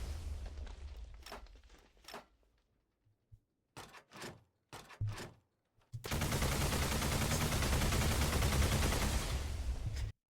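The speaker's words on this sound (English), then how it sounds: "this is the full auto rocket launcher, really loud" A full-auto rocket launcher in the Minecraft Create mod fires a string of sharp separate blasts with gaps between them, then one loud sustained roar of rapid fire that lasts several seconds before cutting off.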